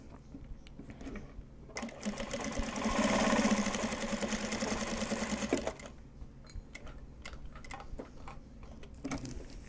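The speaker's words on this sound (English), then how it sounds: "that bobbin is winding right now" A home sewing machine winds a bobbin. A soft mechanical ticking hum swells into a loud, steady whir for about four seconds and then cuts out, leaving quiet ticking.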